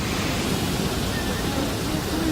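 Brooks Falls waterfall in Katmai rushes in a dense, constant roar of falling water that fills the whole moment, with no break or change.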